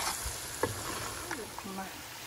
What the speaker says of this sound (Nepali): मासु र मसला मजाले भुटिनु पर्छ